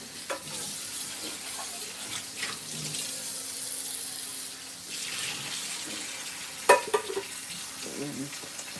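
Hot water runs steadily from a kitchen tap into a small metal rice pot, a soft continuous splashing with a few louder knocks and clinks of the pot near the end.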